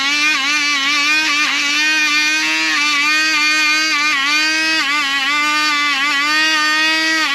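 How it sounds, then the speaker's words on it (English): A small Dremel rotary tool grinding bumps off a resin casting gives a steady, loud, high-pitched whine. The pitch wavers slightly as it bites into the material and holds for several seconds without a break. "I'm going to have to just take my little Dremel here. I'm going to work those bumps off."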